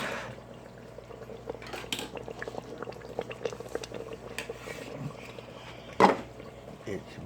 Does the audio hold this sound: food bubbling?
yes